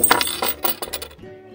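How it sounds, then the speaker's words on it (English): Heavy solid brass hotel room keys jangle and clink together in a hand, a cluster of bright metallic chimes and rattles close up, then settling. "These are the room keys, but they're so ridiculously heavy."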